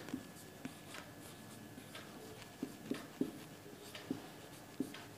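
Chalk or marker writing on a board in a maths lesson, a faint series of short scratchy taps and strokes at an irregular rhythm in a quiet room.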